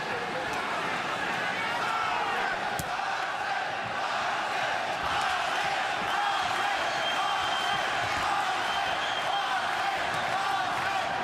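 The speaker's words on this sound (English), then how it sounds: "The crowd here in Anaheim wasting no time getting behind Arce" A boxing crowd in Anaheim roars steadily in support of Jorge Arce during his bout, a continuous wash of cheering and shouting under an announcer's commentary.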